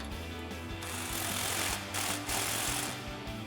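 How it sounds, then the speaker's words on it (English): A nut on a Jeep Gladiator JT front suspension is tightened with an 18mm swivel socket and wrench, giving a close, continuous rattling ratchet buzz with steady rhythmic pulses throughout. "Then we can take an 18mm swivel socket and an 18mm wrench and tighten this down."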